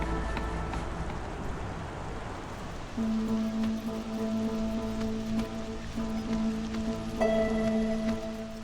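Steady rain patters throughout in the game Against the Storm, a soft constant hiss beneath sustained musical tones that swell partway through.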